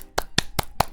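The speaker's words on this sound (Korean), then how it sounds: "박수 소리 들리세요?" A single person claps four times in an even rhythm, each sharp, close clap separated by brief silence.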